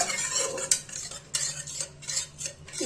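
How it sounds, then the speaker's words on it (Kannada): Cooked lentils (dal) for thili saaru are mashed with a spoon in a pot, giving close, repeated scraping and squelching strokes in an uneven rhythm, with no talking. "ಬರೀ ಬೇಳೆ ಏನಿದೆ ಅಲ್ಲ ಇದನ್ನು ಸ್ವಲ್ಪ ಪೂರ್ತಿಯಾಗಿ ಸ್ಮ್ಯಾಶ್ ಮಾಡ್ಕೋಬೇಕು"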